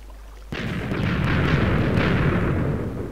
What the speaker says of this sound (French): sur une grosse explosion d'un autre mec du serveur